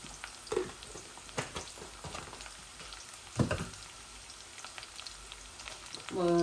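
Garlic cloves sizzle faintly in a pan of oil alongside red greens and a red chili in a home kitchen, with a soft, uneven crackle and a few brief clatters and low voice sounds.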